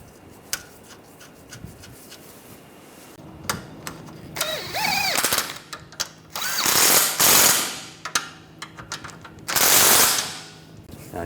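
Ratchet tightening stabilizer bar bolts on a 2009-2013 BMW 328i xDrive 3.0L L6, loud close bursts of rapid clicking separated by pauses and clanks of tools on metal.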